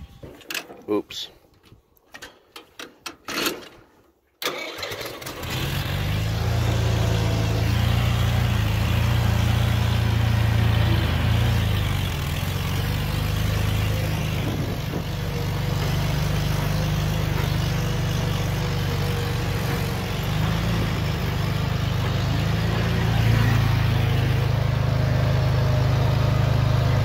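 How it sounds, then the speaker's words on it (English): A few clanks and knocks, then a tractor engine starts up and settles into a steady, loud, low idle that runs continuously. "let's go ahead and pull the tractor over here and start tugging on this thing"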